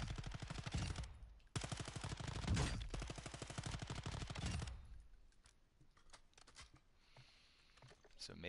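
An SMG fires in Call of Duty DMZ in two long rapid bursts, loud and close, followed by scattered softer shots and game noise.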